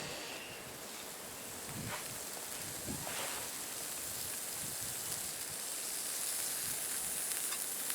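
Dry cured bacon sizzling over a small stick fire outdoors, a steady, dense hiss and crackle that holds close and even throughout, with no talking.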